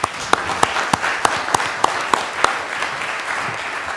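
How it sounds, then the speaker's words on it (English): An audience claps for a panel in a steady wash of applause, with a few sharp, evenly spaced single claps standing out near the front before fading into the general clapping. "Maybe we could just give the panel another quick round of applause."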